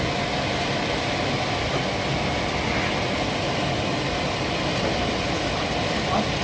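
A bottle shrink tunnel machine runs with a constant, dense mechanical hum and hiss, steady and unchanging throughout with no speech over it.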